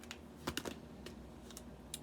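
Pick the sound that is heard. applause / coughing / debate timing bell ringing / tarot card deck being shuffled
tarot card deck being shuffled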